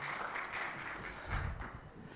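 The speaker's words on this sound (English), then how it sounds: "Can we give a very warm round of applause for Mr. David Batch coming up?" Applause from a small conference audience greets a speaker coming up, a faint, steady patter of clapping from a modest crowd lasting a couple of seconds.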